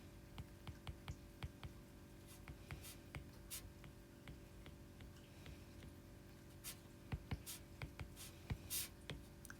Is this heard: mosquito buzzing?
no